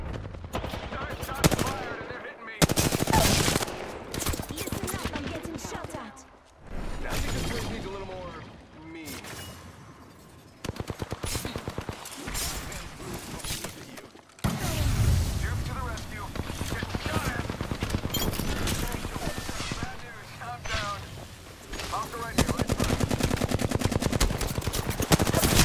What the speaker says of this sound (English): Target spotted. Opening fire.